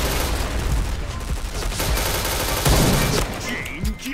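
Suppressed MSBS rifle fire in a video game, a dense run of rapid muffled shots under a near-continuous loud noise bed, with a talking voice partly mixed in.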